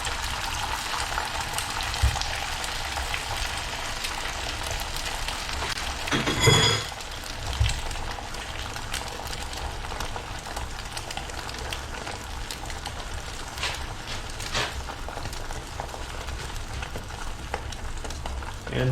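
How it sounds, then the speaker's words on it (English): Scrambled eggs sizzle in a hot pan with a steady, close frying hiss throughout. A brief louder burst of sizzling comes partway through, and there is no talk. "We're going to throw that in our nice hot pan."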